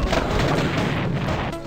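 Explosions from the video game Crusader: No Remorse boom and crash in quick succession, a dense, loud burst of blasts that fades slightly at the end.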